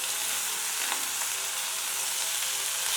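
Eggplant pieces for a gojju sizzle steadily in hot oil in a frying pan, a continuous close frying hiss with no talk over it.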